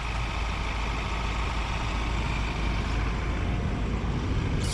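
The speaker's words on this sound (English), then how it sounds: "So you can hear the engine from the outside," A Ford Everest 2.0L bi-turbo diesel SUV idles nearby outdoors, giving a constant, even engine drone with no talking and no change in pace.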